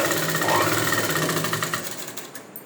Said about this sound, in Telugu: స్టిచ్ అనేది వేసుకోవాలి ఇలా పట్టుకుంటూ సర్దుకుంటూ